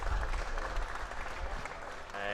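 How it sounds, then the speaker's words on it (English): Crowd in the stand at a schools rugby festival match applauding warmly, a steady continuous wash of clapping with a faint voice over it. "And warm applause from the crowd in the stand."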